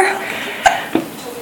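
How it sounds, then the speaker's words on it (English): A young child hiccups twice, short and close, about a third of a second apart, with faint background sound between. "How did you get the hiccups?"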